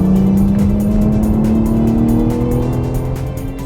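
A car on Bridgestone Potenza high-performance tyres driven hard around a track in Ireland, a loud near engine whine that climbs steadily in pitch with a tyre squeal, then eases slightly as it passes.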